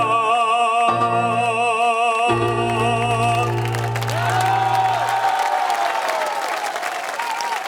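Crowd applause and cheering at an outdoor evening concert in Piazza Milano, Jesolo, a dense clapping roar that builds as the sustained music of the band fades out beneath it.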